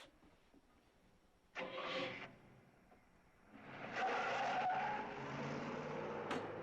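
A stolen car starts up and pulls away, a short burst of engine and tire noise followed by a louder, sustained skid and roar as it drives off, heard at moderate distance.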